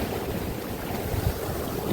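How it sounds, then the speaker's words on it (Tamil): Sea waves surging against a fishing boat at sea, a dense continuous rush of water and wind buffeting the microphone, loud and close with no talk. "கடல் அடிக்குது சரியா?"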